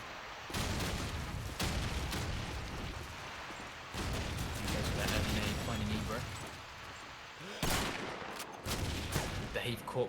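Shotgun blasts in a World War II video game, several loud booming shots spaced a few seconds apart over continuous battle noise, with a commentator talking throughout.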